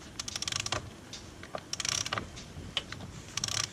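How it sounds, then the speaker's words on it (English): A two-speed sailboat winch on a cruising boat ratchets in quick bursts of crisp metallic clicks, with short pauses between turns, close up and without talk. "So this is the 2-speed winch."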